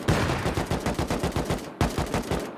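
Rapid automatic gunfire in the survival game Rust, a fast, even burst of loud shots, a brief break, then another quick string of rounds.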